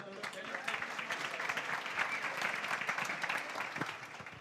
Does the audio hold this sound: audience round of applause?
yes